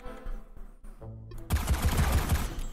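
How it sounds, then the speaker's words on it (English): A robot enemy in the video game Prometheus, Conqueror of Worlds opens fire at the player. After a quiet start, a sudden, loud burst of rapid, continuous gunfire runs to the end of the clip, with no talking. "I guess I can kill the robot. He's shooting at me."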